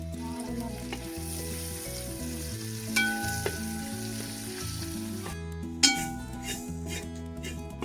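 Curry leaves sizzle in hot oil with shallots for a Kerala-style duck curry. A loud, steady frying crackle carries through the whole stretch, punctuated by a couple of sharp clinks of a utensil against the pan.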